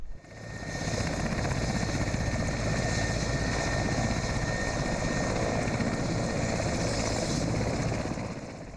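A military helicopter ferrying anti-terrorist forces over flooded terrain makes a loud, steady rotor and engine roar that fades in at the start and eases slightly at the end, with no talk.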